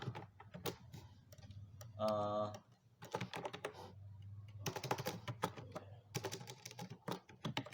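Quick bursts of key clicks come from a computer keyboard as C code is typed, close and uneven in rhythm, under someone speaking, with a brief pause in the typing.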